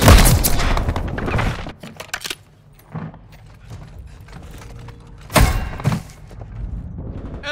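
Call of Duty: Modern Warfare 3 gunfire, with a loud opening burst of rapid shots, scattered sharp cracks and clatter in the middle, then another heavy burst of fire near the end, with little speech.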